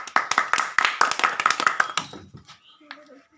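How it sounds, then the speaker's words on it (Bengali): A small group clapping at a village ludo-style dice game after a consolation prize, a quick burst of close hand claps that thins out into scattered claps and fades. "এটি হাততালি"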